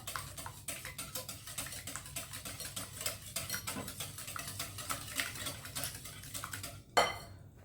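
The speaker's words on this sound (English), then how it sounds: "we're going to add 1/3 cup of sugar and we're going to mix it so it dissolves in the" Sugar being stirred into a Nigerian bun mixture in a bowl: rapid, continuous clinking and scraping of a utensil against the bowl, close and steady, ending in a brief louder knock.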